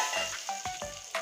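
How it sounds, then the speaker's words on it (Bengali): Hot spiced tempering oil sizzles sharply as it is poured over cooked leafy greens in a home kitchen, a short burst of crackling spits and pops, close and bright. "এখন আমি শাকে এখন ফোড়ন দিয়ে দিচ্ছি, দেখুন কত সুন্দর কালার আসছে শাকে। এবার ঢেলে দিচ্ছি।"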